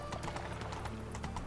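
Horse hooves clop in quick, regular beats in The Witcher 3: Wild Hunt during a race, with a faint whinny-like tone mixed into the steady game ambience.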